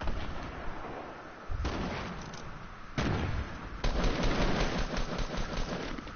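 Video game gunfire crackles in dense, sustained bursts of rapid shots, loud and continuous with abrupt shifts in intensity, no voices.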